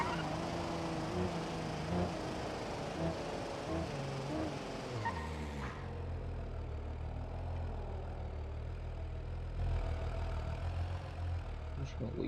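A car engine in the BeamNG video game runs loud and rough at first, then drops suddenly to a steady low idle hum that continues near and alone to the end.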